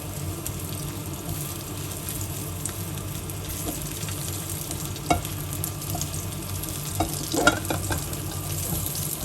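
Food fries in a pan with a little oil, a constant sizzle broken by occasional clinks and scrapes of stirring; no talking.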